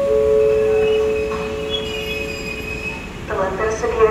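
A Commuter Line electric train entering Bekasi station, with high metallic wheel squeal and steady rolling rumble close by, fading slightly before fresh squealing near the end.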